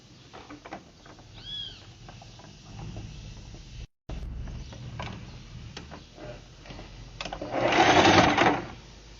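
Sewing machine stitching a 1 cm seam on the finishing side of a fabric diaper holder with wipes pocket. Soft mechanical clatter and light ticks run throughout, with a brief break near the middle, then a louder, denser burst of stitching near the end.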